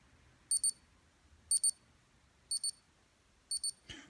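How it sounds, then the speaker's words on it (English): An Omer UP-X1 digital watch alarm sounds four evenly spaced double beeps, each about a second apart, thin and high-pitched, fairly quiet against faint background hiss, with a soft clunk at the very end. "I'm going to give you an example of the alarm."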